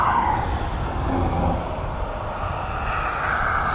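An Atlas cargo jet arrives at East Midlands Airport, a steady, broad engine roar at moderate distance that holds without interruption.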